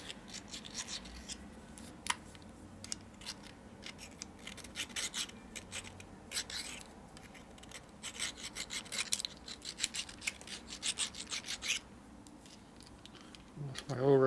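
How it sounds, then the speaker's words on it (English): A file rasps in circles over a part from a pro-flow oil pump for a Harley shovelhead or evo engine, close and steady scratching strokes that continue for a long stretch, with a louder knock right at the end. "So as you're filing, you go in a circle."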